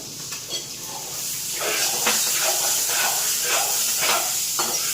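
Fish frying in a pan gives off a steady broadband sizzle and hiss, loud and continuous throughout, with brief crackles and spits breaking through.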